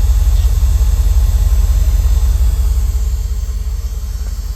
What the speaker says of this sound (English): Hear that fuel pump running from back here.